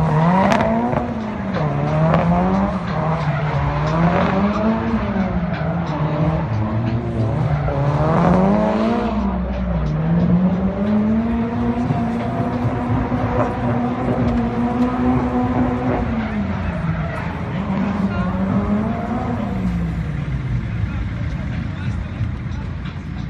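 A car drifts at a first drift outing, its engine revving up and down in repeated rising and falling surges with tire squeal mixed in, loud and continuous throughout.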